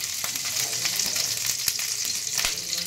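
Cumin seeds for tempering fry in a little white oil, giving a loud, close, steady sizzle with sharp crackles and pops scattered throughout.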